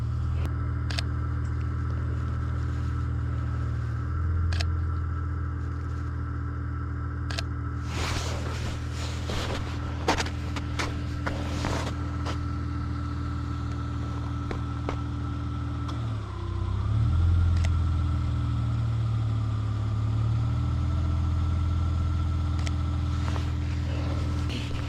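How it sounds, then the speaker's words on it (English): A car passes by outside, a steady mid-range engine hum that swells briefly as it goes past, with a few sharp clicks in between and no talking. "I think I can hear another car already."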